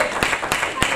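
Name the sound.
congregation clapping hands in church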